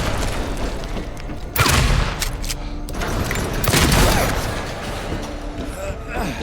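Shotgun blasts in the survival horror game Silent Hill 2, two heavy booming shots a couple of seconds apart over a rumbling game background, with someone talking.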